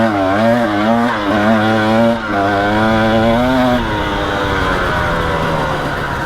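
A 2-stroke KTM 300 XC dirt bike out on a track, its engine buzzing loud and close with rising and falling revs, then settling into a rougher, steadier drone.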